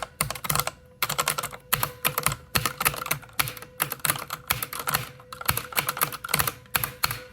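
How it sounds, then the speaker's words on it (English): Rapid bursts of typing on a Corsair K57 keyboard, each keystroke bringing a humming, vibrating ring from the keys that grows as more are pressed; clicks come in quick clusters with short pauses, close and fairly loud. "the keyboard is humming at me. It is humming a vibrating sound for every key, which amplifies with as many keys that get pressed."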